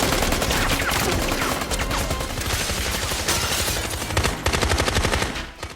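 Gunfire exchange in an action film: dense, rapid bursts of automatic fire and shots crackle loudly and continuously throughout, with a brief lull before the firing resumes near the end.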